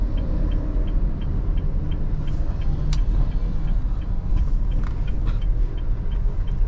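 A Honda Brio's engine runs steadily while driving in first gear, a continuous low rumble with road noise and faint ticking throughout, no voices over it.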